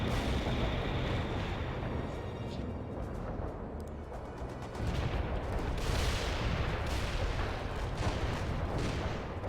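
Artillery fire in the World in Conflict video game: dense, rumbling barrages of booming blasts roll on continuously, loud and heavy, with sharper crackling impacts on top of them.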